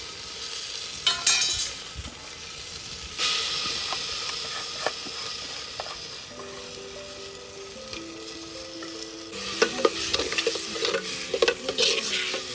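Ground masala paste for Karnataka-style bassaru rasam is stirred into a hot frying pan, giving a steady sizzling hiss with scraping spoon strokes, which grow busier and louder toward the end. No voices.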